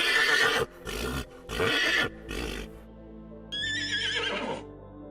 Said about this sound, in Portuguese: Cavalo. Horse.